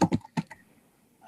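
Keys clack on a computer keyboard, a few quick close taps in a short burst followed by a pause and a faint last press, with no speech.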